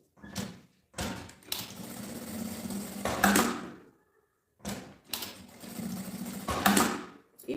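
Sewing machine stitching a cosmetic bag, close and clear, in two runs of fast rhythmic whirring, each made of short bursts with a longer stitch, separated by a pause.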